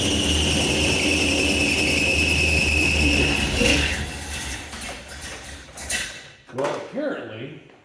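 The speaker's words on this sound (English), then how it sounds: "apparently, as you noticed there, my fan belt's a little loose" An engine idles just after startup with a loose fan belt, giving a steady loud whine and rumble that cuts off partway through, after which someone talks.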